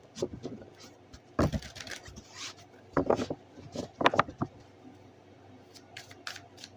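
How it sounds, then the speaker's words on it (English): Tarot cards are shuffled in several uneven bursts of crisp riffling and rubbing, close by, with short quiet gaps between handfuls. "Let me do a few more shuffles here."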